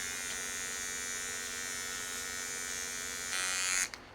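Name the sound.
battery-operated electric toothbrush buzzing to pollinate tomato plants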